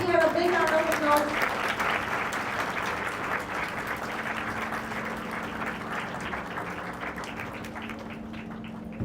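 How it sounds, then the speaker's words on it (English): Sustained applause from a conference audience at a business school HR conclave, a dense even wash of clapping that slowly fades, with some talking over it at the start. "Can we have a big round of applause?"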